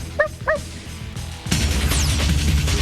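A dog barks in the Silent Hill 2 video game's secret dog ending: two quick high yips, then a burst of loud, noisy crashing game sound.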